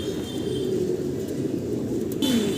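Pigeons cooing at a large pigeon farm in Bangladesh, with a steady, close chorus of low, overlapping coos over a constant background murmur.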